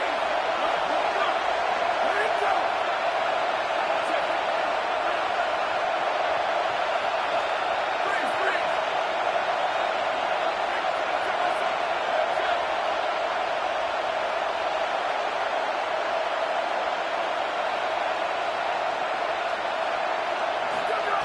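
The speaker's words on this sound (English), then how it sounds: "This crowd trying to make life miserable for this offense." A stadium crowd roars at a college football game between ASU and Stanford, a steady, dense wall of noise holding at the same loudness throughout without letting up.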